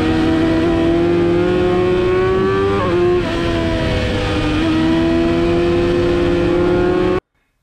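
A racing motorcycle screams around a circuit on a qualifying lap at the Chimay road course, its high engine note rising, dipping as it shifts gears, then climbing again, loud and close, with no talk.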